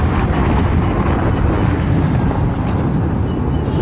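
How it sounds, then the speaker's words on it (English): Strong wind buffets a microphone outdoors beside an electric scooter, a steady, loud, broadband roar that lasts the whole stretch with no talking. "It's super windy out here."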